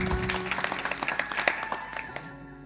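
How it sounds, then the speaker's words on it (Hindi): An audience claps at a religious gathering in a village dham in Raisen district, with scattered claps rising over steady background tones and trailing off as the clapping fades. "ताली बजाना पड़ेगा"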